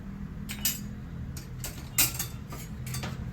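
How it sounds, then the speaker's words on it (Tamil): A small kadai, a wok-like pan, is set down on a stove in a home kitchen, giving a few light metallic clinks and knocks, close but quiet, with no talking. "குட்டியாக ஒரு கடாய் வச்சாச்சு."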